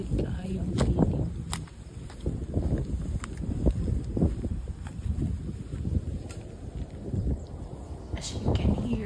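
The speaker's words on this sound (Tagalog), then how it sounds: "As you can hear mga guys, grabe ka hangin, no?" Strong wind gusts across an open farm, buffeting the microphone with a loud, continuous low rumble that rises and falls throughout, along with a few faint clicks and rustles.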